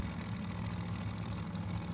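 Funny car drag racing engines at Mo-Kan Dragway, a Chevy-powered car in the left lane and a Hemi-powered car in the right, rumbling together in a loud, steady low idle throughout.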